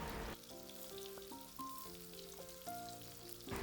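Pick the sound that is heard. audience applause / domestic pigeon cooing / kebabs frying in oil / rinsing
kebabs frying in oil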